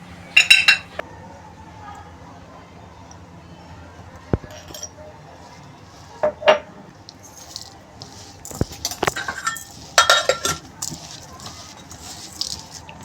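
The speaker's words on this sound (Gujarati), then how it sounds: "આપણે બધું એની અંદર મિક્સ કરીશું." A spoon clinks and scrapes against a bowl while spices are mixed into a potato filling for farali patties, in irregular bursts of metallic clatter separated by quieter pauses.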